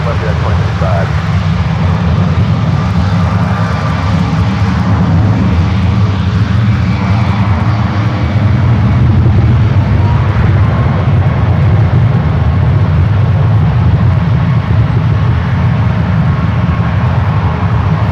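Engines of a Japan Airlines Dreamliner roar loud and steady at San Francisco airport, a broad continuous rumble lasting the whole stretch with a voice talking over it.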